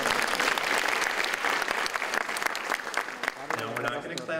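Audience applause at a school senior awards night: a full, close burst of clapping that tapers toward the end, with talking emerging faintly under the final moments.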